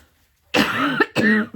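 Two quick harsh coughs close up, one right after the other, with a short pause between them.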